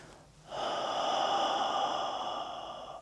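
Slow, steady exhalation during a calm breathing exercise, one long airy breath out lasting over two seconds, fairly close and alone.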